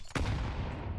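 A single sharp gunshot from Counter-Strike rings out during a professional esports match, a sudden crack followed by a brief decaying tail, fairly faint in the mix.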